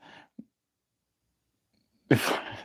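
After a brief breath and near silence, one loud, close sneeze bursts out.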